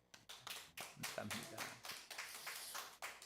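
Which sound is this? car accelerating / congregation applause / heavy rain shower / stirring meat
congregation applause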